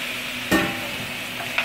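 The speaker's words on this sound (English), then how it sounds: "I'm just going to saute it in the olive oil for a few seconds until the color starts to change" Shrimp sauté in hot olive oil in a pot with a steady, loud sizzle, close up, and one brief clatter as they are stirred, without speech.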